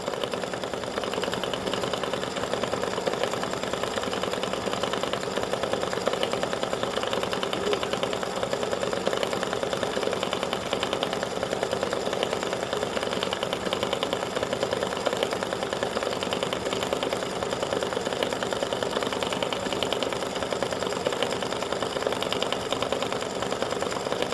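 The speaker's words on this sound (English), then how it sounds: "right now it's just doing some little flower-looking stitches for the frame around the design" A computerized embroidery machine sews small flower-shaped stitches into card stock, a steady, close mechanical whirring and rapid needle ticking that runs without pause.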